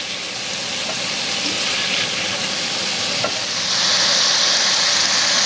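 Shrimp fry in a pan with a loud, continuous sizzle and hiss that swells slightly louder near the end, with no voices heard over it.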